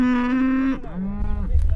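Cows on an agroecological farm in Guaminí let out a loud, close, drawn-out moo, followed by a lower, rougher second call, with no voices.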